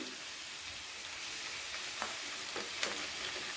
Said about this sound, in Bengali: হালকা ভেজে নেওয়া হয়ে গেলে এর মধ্যে আমি দিয়ে দিচ্ছি আদা বাটা।